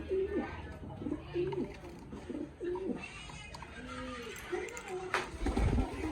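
Pigeons coo close by in a run of repeated throaty calls, under a person talking in Filipino and some background bustle.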